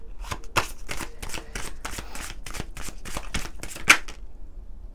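Fairy oracle cards are shuffled by hand in quick, close, rhythmic riffles and slaps for about five seconds, with nobody talking.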